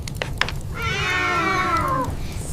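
A single clear, drawn-out cat meow with a rising then falling pitch, preceded by a few short clicks and a quiet background.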